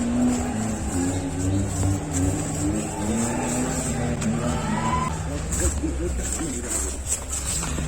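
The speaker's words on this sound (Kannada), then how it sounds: "ಇದು ಥಾರ್." A Mahindra Thar 4x4 jeep races off-road through a Malnad plantation at a Koppa motorsport event, its engine droning and revving steadily close by while people talk over it.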